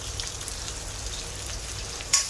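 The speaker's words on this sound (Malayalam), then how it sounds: "നല്ലപോലെ വഴറ്റി കൊടുക്കാം" Tomato and chopped ginger sauté in a pan for a crab roast, a soft continuous sizzle that ends in one brief sharp clink of a utensil.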